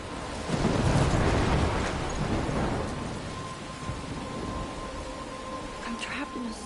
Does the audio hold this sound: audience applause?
no